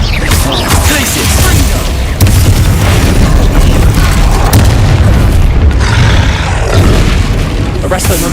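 Spell explosions and booms from the Hogwarts Legacy video game, a dense, loud run of bursts and blasts filling the whole stretch with barely a pause.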